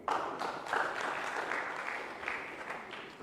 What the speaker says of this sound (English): Give yourselves another clap